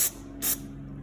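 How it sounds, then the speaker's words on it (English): Carb cleaner sprayed onto engine lifters from a Franklin 4ACG 199 engine in two short, sharp hissing bursts, close and fairly loud, separated by a brief pause. "I'll spray these down with carb cleaner to get all the junk, carbon and whatever out"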